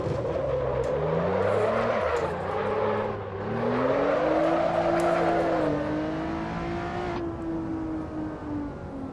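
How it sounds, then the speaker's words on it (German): Lotus Evora GTE Carbon race car in the Assetto Corsa racing game on a hillclimb course, engine revving up and down through gears with double-clutch throttle blips on downshifts, a loud steady onboard drone with rising and falling pitch. "Und auch beim Runterschalten gibt er so Doppelzwischengas, ne?"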